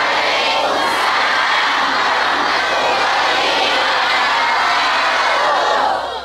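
A mosque congregation at a humorous Sundanese sermon shouts back the Islamic greeting in a loud, sustained roar of many voices, a dense crowd cheer lasting several seconds before trailing off.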